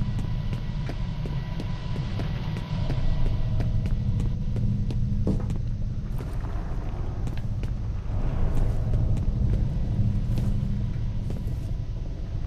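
Low rumbling like distant thunder rolls through the video game F.E.A.R., a heavy continuous drone that swells and fades with faint clicks and thuds on top, and no voices.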